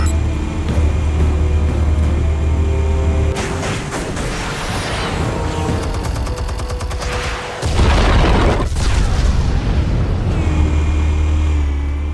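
Explosives detonating in the Batman Telltale video game: deep booming blasts and rumbling debris over a steady low drone, with a sharp burst partway through followed by a sustained roar.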